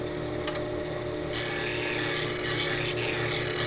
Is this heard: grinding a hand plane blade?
yes